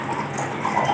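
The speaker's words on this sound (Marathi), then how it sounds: "एक पेला पाणी टाकते." Water splashes steadily from a glass into a pot, about a glassful, for sweet jaggery soup, a soft continuous close gush with no voices.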